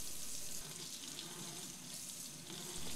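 Cold tap water running steadily into a sink while a boiled egg is peeled, a loud continuous hissing splash with no talk.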